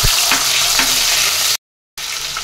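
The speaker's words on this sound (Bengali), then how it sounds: "গোটা গরম মশলা, এলাচ, দারচিনি আর লং দিয়ে এটাকে ভেজে নেবো ভালো করে।" Whole garam masala with cardamom, cinnamon and cloves frying alongside potatoes, stirred in a pan: a steady loud sizzle with a few scraping strokes, cut briefly by a short gap before the sizzling resumes.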